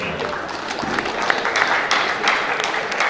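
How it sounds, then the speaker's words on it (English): An audience at a National Mental Health Act sensitization workshop claps briefly for a foundation chairman. A diffuse, steady patter of applause carries on with a faint murmur of voices beneath it. "Please clap for him."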